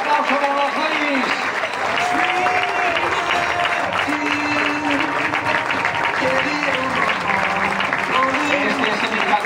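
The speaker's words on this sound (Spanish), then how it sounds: "fuerte aplauso para las ladies" Loud, sustained applause from an audience greeting a girls' youth basketball team at a club's season presentation, continuous clapping with crowd noise and music-like tones underneath, lasting the whole stretch.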